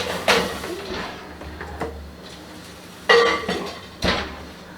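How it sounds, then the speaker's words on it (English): Metal focaccia baking pans clank and scrape as they are slid into a hot oven, with several sharp metallic knocks spaced irregularly over a low background hum. "Right, and load the pans in."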